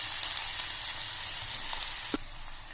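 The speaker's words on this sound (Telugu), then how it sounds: "ఆనియన్స్ వేయాలండి" Onions sizzle in hot oil in a pot with tempering spices, a steady close frying hiss with a brief clink or stir near the end and no talking.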